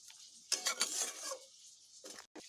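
A spoon stirring taro stolon curry in mustard and poppy seed paste, a burst of scraping and soft sizzle, then a pause and a few shorter scrapes, close but fairly quiet.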